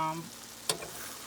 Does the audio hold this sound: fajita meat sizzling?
yes